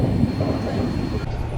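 Pawan Express train pulling out of Varanasi City station: a steady low rumble and rolling clatter heard from on board, continuous and moderately loud with no distinct horn.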